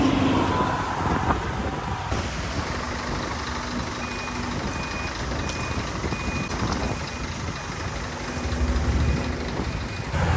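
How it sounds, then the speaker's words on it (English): Heavy vehicles pass outside, buses or builders' trucks. A steady, dense engine and traffic rumble continues throughout, with a faint reversing beep repeating at regular intervals in the background. "Got builders. Buses, most probably."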